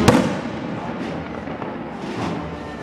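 Fireworks at a Spanish street festival go off with a sharp, loud bang at the start, and fainter booms and crackles echo afterward.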